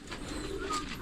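A pigeon or dove coos softly in a backyard where hens are kept, one short, low, rolling call close by, over faint background noise.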